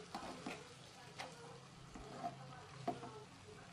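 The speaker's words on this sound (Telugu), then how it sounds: "ఉడికించి సిద్ధం చేసుకుని ఉంచుకున్న బోటీని బాండీలో వేసుకొని ఒకసారి బాగా గరిటెతో కలుపుకోవాలి" A ladle stirs boiled goat gizzard in a kadai, producing faint scraping and clinking knocks at irregular intervals over a soft sizzle.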